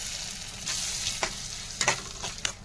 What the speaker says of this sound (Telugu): తాలింపు వేసి తిప్పుకుంటున్నాను ఫ్రెండ్స్.